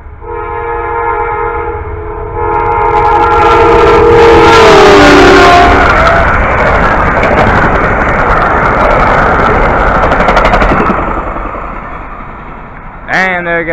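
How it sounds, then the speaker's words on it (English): An Amtrak passenger train sounds a loud multi-tone horn, then thunders past close by with a sustained rush of wheels and rail noise that slowly fades. "And there goes Amtrak."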